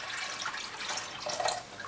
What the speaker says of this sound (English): So the water, the litre of water goes in first.